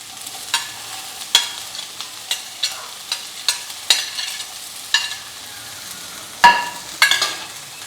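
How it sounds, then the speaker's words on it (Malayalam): Chopped sword beans are stirred in hot coconut oil with curry leaves, giving a steady soft sizzle broken by repeated sharp scraping clacks of a spoon against the pan, close and fairly loud. "ഇനി നമുക്ക് നമ്മൾ അരിഞ്ഞ് വെച്ചിരിക്കുന്നതായ വാളരിപ്പയർ അങ്ങോട്ട് ഇട്ട് കൊടുക്കാം."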